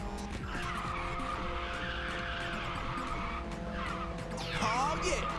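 A race car in Ridge Racer 6 drifts through a corner, its tires squealing in a long sustained screech over a steady engine drone, rising louder near the end.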